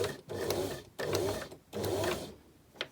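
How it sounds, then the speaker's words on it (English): A sewing machine runs in three short, even bursts as it reverse stitches up the folded edge of a fabric dart, a close, busy mechanical whir with brief gaps. "Then I'm going to reverse up the folded edge here so that my stitch line is within the dart."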